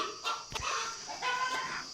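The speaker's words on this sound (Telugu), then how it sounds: "బ్యాక్గ్రౌండ్ అయితే మాత్రం కోళ్ళు శబ్దం అయితే వస్తుంది" Chickens cluck in the background in short bursts, moderately close, over a quiet farmyard with no speech.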